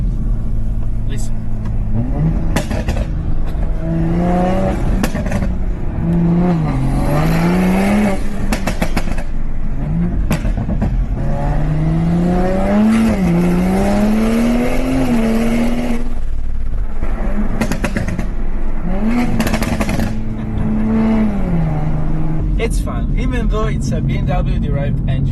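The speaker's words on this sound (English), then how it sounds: "Let's just pull down the window to hear the actual sound of the engine." A modified turbocharged inline-six car engine, BMW-derived, revs repeatedly through rising and falling pulls, loud and close from inside the car, with talk over parts of it.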